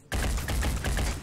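Rapid burst of gunfire from the tactical video game Phoenix Point, several sharp shots in quick succession, loud and close, with no talk.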